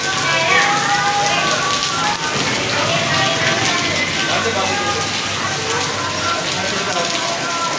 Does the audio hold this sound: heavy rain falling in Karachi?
yes